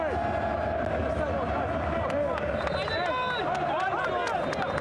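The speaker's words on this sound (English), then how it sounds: "the home crowd, just listen to these fans" Home basketball fans of AEK fill an arena with a constant roar of cheering, whistles and chanting during a Champions League game, while an announcer's voice carries on over the noise.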